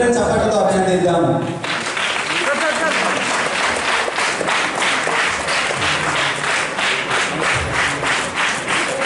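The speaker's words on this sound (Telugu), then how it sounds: "మనమందరం చప్పట్లతో అభినందిద్దాము." An audience at a 75th Republic Day ceremony at the Medchal collectorate applauds as irrigation campaigners are honoured. A brief voice comes first, then sustained crowd clapping follows, fairly loud and continuous.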